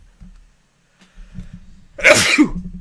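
A single sharp sneeze bursts out close by, loud and explosive, after a stretch of quiet with faint low murmuring.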